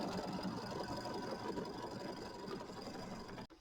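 An embroidery sewing machine stitching a quilt design hums and chatters in a fast even rhythm, faint and steady, before cutting off abruptly.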